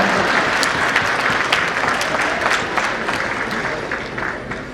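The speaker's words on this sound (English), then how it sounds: "yes, you can clap." An audience at a fundraising banquet claps steadily, a dense wash of many hands that holds for several seconds and slowly eases off.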